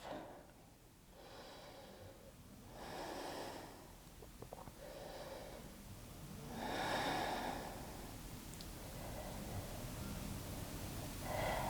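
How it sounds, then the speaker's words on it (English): Slow, deep breathing during yoga in a downward dog pose: about four unhurried inhale-exhale cycles, soft and close, with airy nasal rushes in an otherwise quiet room. "Give yourself a few rounds of breath."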